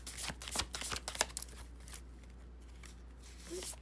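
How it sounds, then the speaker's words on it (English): Tarot cards are shuffled and pulled by hand, a few quiet riffling and snapping bursts in the first two seconds, then faint soft handling of the cards. "we'll pull some confirmation cards"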